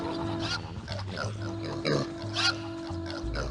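Pigs oink and grunt in the Warcraft Adventures video game, several short snorting calls over a steady humming game soundtrack.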